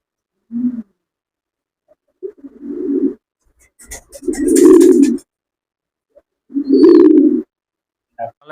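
Indian Bombay pigeons at a sale give four or five deep, close coos, each a short throaty burst separated by quiet gaps, with no talk over them.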